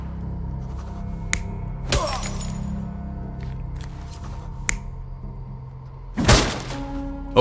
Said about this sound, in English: the sailor swung a chair at the trader